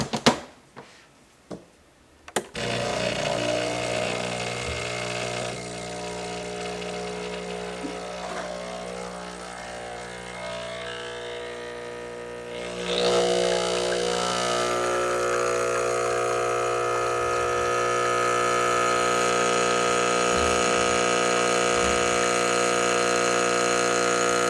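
A Breville Barista Express coffee grinder grinding beans: after a few clicks, a steady, loud motor whine with a buzzing hum that shifts upward partway through and keeps going to the end.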